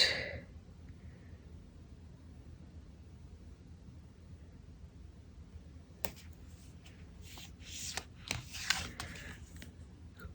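Light Seers tarot cards being shuffled and handled, heard as soft papery riffles and snaps near the end after a long stretch of quiet room hiss.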